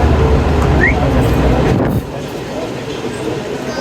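The Jaffar Express passes through Chak Pirana station on its Attock to Lahore run: a loud, steady rail rumble with wheel clatter that drops to a lighter rolling noise about halfway through.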